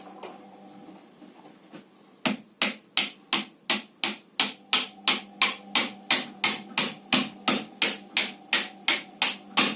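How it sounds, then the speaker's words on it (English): A small hammer taps steadily in a quiet setting while building a low-cost sustainable hut, with about twenty sharp, evenly spaced strikes that grow slightly louder, after a brief quiet lead-in. "then with a little hammer"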